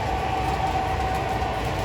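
A model train runs along a layout track with a steady, close rolling rumble and faint rail clatter, and no voices are heard.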